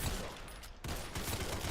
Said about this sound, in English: I'm shooting like right through him